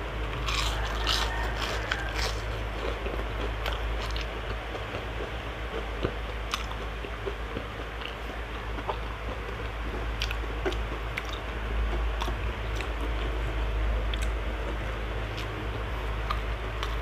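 Steady close-up chewing of crispy fried eggplant that has lost some of its crunch, with continuous moist biting and mashing sounds throughout and no talking.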